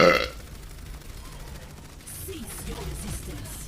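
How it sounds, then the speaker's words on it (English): A short, loud burp erupts at the very start during a burp-off contest on a livestream, then fades into quieter background noise and faint vocal sounds. "Having a burp off."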